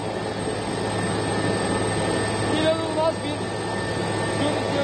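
A Turkish Armed Forces military helicopter in flight during a rescue operation, its steady rotor and engine roar loud and constant from inside the cabin throughout, with faint voices underneath.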